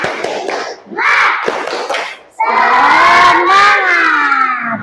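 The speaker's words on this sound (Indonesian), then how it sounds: "kita tepuk semangat dulu" A classroom of students performs the rhythmic 'tepuk semangat' spirit clap in a lesson, with bursts of clapping mixed with loud shouted chanting from many young voices, ending in a sustained group cheer.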